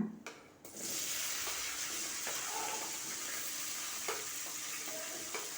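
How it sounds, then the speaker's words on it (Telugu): Green chillies fry in hot oil with cumin and asafoetida for a tomato onion chutney, a loud, steady hiss that bursts in after a short pause and holds close and unbroken, with faint stirring clicks and no speech. "బాగా వేగితే పచ్చిమిర్చి కొంచెం వేగనిస్తాను"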